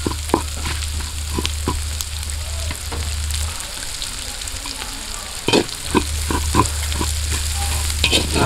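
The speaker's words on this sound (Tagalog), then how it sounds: "Yan, gisa nyo lang po." White onion sautéing in a pan over an outdoor cooking fire, with a steady sizzle broken by repeated scraping stir strokes and a low background hum that drops out midway.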